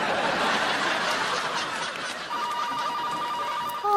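Telephone ringing indoors in a domestic comedy scene, an electronic ring tone that starts midway through, repeating steadily and fairly clear over a background of chuckling and room noise.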